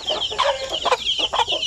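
Zampen breed chickens clucking in a short run of repeated, close calls, fairly loud and with no talk over them.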